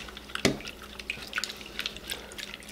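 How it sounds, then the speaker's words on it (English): Liquid is poured into a homemade slime mixture made from household items, giving a sharp splashy onset followed by scattered small drips and wet squishy taps, close and fairly quiet, with no talking. "you can pour that in"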